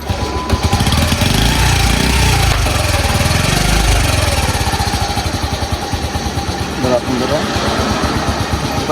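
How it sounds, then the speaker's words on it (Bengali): A motorcycle engine catches and runs with a loud, rough, rapidly pulsing idle close by, and a voice talks over the engine noise. "চলুন বাইক স্টার্ট দেওয়া যাক।"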